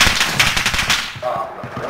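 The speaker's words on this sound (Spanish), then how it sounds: "Están disparando por aquí." Loud machine-gun bursts in Warzone, a fast string of close shots for about a second, followed by fainter scattered shots as the firing trails off.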